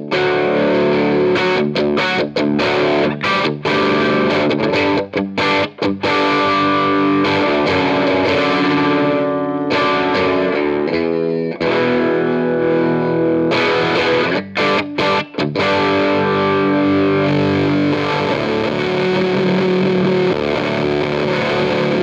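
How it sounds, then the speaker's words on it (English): Electric guitar fitted with Gibson Custombucker pickups, played through a fuzz pedal, roars with thick, harmonic-rich sustained chords and riffs, loud and continuous for the whole stretch with a few brief choppy breaks, no voices. "definitely have a lot of harmonics going on with that fuzz"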